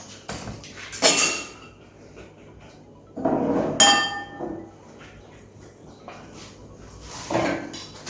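Brownie batter is mixed in a bowl with a utensil, with intermittent clinks, scrapes and knocks against the bowl in short bursts separated by quieter pauses, close by.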